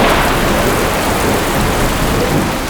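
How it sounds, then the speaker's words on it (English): Heavy rain pours steadily in a thunderstorm, a dense continuous roar with rumbling thunder underneath, loud and close throughout with no voices. "hadn't seen rain in a while, and it started off as fun, it felt good, it was refreshing"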